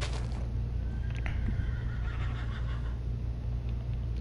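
A horse in a video game whinnies once, close and clear, a shrill neigh that wavers and fades over a few seconds above a low steady rumble, with no talking.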